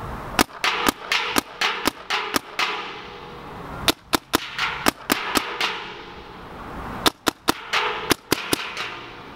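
SP Shocker AMP paintball gun firing sharp, snappy pops, close and clear, in three quick strings of roughly six to eight shots each separated by brief pauses.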